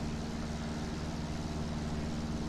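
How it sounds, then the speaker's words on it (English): A Piper Super Cub's engine runs in the X-Plane 11 flight simulator, a steady low droning hum that holds even and unbroken with no voices. "Engine sounds good."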